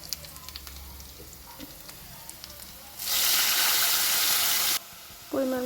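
Spices hit onions frying in a pan for a bitter gourd and prawn dish: quiet background clatter gives way to a loud, steady sizzle lasting a couple of seconds, then it drops and briefly flares again.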